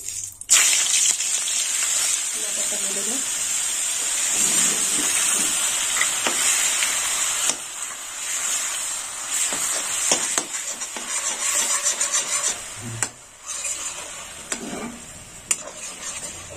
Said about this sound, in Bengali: এখানে আমি কিছুটা সাদা তেল নিলাম। আর এখানে নিয়েছি 50 গ্রাম বাটার, দিয়ে দিলাম বাটার।